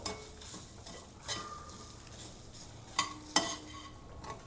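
Coconut and lentils dry-roast in a pan, stirred with a utensil: faint, quiet scraping and rustling with a few light metallic clinks, and no voices.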